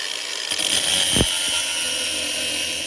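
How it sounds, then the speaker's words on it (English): An angle grinder cuts out screws at close range, whining loudly with a harsh high-pitched buzz and a brief dip as the blade bites, then keeps screaming steadily. "I think it's time to resort to the angle grinder, see if we can cut them out"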